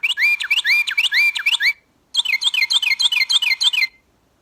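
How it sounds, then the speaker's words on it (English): A Carolina wren calling in two loud, clear bursts of rapid repeated whistled phrases, close and alone with a short pause between. "This one's called, let's do a Carolina wren."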